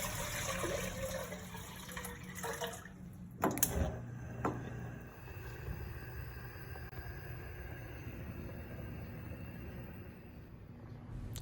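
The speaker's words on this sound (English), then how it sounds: "you want to add 64 ounces of water to a pot" Water running into a pot as 64 ounces are added for heating before malted barley goes in, a steady close pouring wash lasting throughout with a brief clatter midway, no voices.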